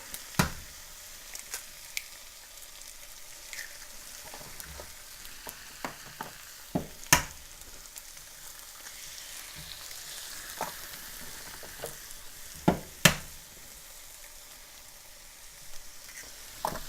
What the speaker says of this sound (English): we're just going to crack some eggs on top of this.